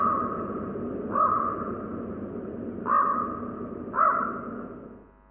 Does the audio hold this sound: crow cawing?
yes